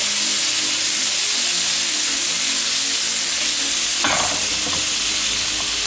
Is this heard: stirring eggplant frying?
yes